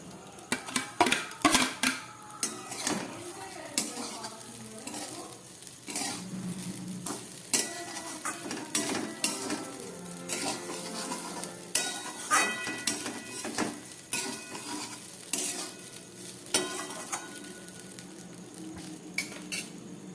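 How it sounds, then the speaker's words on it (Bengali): Flattened rice (chira) is tossed and stirred with already-fried vegetables in a pan for a pulao, giving repeated clinks and scrapes of a spoon against metal over a soft sizzle, steady and close with no talk. "সবজিগুলো তো আগেই ভাজা হয়ে গেছিলো এবার আমি এর মধ্যে দিয়ে দিচ্ছি চিড়েটা"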